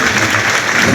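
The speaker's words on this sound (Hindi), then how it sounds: "हम लोग तालियां बजा के" A church congregation claps hands during a Sunday service, a dense and steady wash of applause that stays loud and close throughout.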